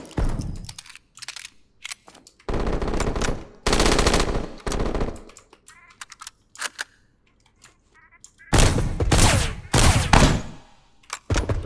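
Video game gunfire in bursts, loud rapid shots and short volleys separated by brief quieter gaps, close and dominant.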